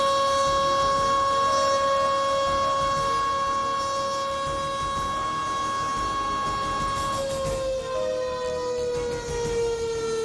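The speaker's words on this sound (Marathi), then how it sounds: "पख्तूनमध्ये नागरिकांना अलर्ट करण्यासाठी सायरन" A civil defense siren installed in Pakhtun to alert citizens wails loudly and steadily, its long sustained tone slowly sliding lower toward the end, with no talking.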